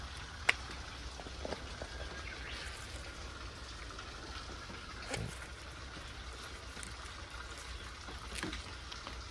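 Heavy rain pours down during a downpour under a heavy-rain warning, a steady close hiss with scattered sharper drop impacts running throughout. No voices.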